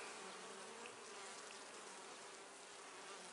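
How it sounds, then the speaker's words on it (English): A dense, steady buzz of many bees, continuous and close, with no other sounds. "Lots of bees up here."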